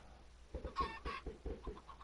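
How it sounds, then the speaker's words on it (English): Minecraft chickens cluck in a quick series of short, soft, rhythmic bursts against quiet background hiss, with no voices. "There's another chicken."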